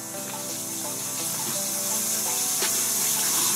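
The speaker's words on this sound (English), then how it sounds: "Sounds like water running in the sink." Water runs from a kitchen sink tap, a steady rushing hiss that builds slightly louder over a few seconds with faint clinks.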